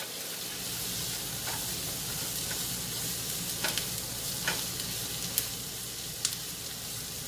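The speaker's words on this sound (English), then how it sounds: "I'm going to toss in my green peppers, get them going too." Green peppers sizzle in a hot frying pan for fajitas, a steady close frying hiss broken by occasional stirring scrapes and pops.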